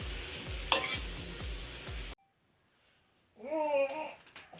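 Dry fish and brinjal are stirred in a pan, giving close scraping and sizzling for about two seconds. A near-silent gap follows, then a voice speaks over faint cooking sounds.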